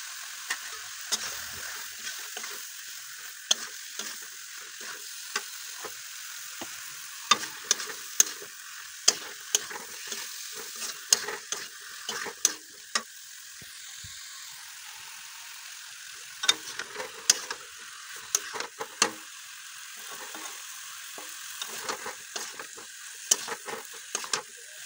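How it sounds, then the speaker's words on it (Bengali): Malabar spinach being stir-fried in a pan: a steady, soft sizzle broken by frequent scraping and clicking stirring strokes throughout, with no one speaking. "পুঁই শাকটা দিয়ে একটু নাড়াচাড়া করতে হবে"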